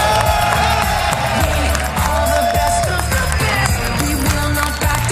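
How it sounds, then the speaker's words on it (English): A large arena crowd cheers and applauds at the Clash of Clans World Championship 2023, a dense, steady roar of voices and clapping that holds throughout without a break. "One more cheer for Clash Champs"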